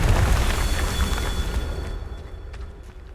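Confringo blast spell from the video game Hogwarts Legacy, a loud close explosive boom with a crackling rumble that slowly fades over a few seconds, no voices.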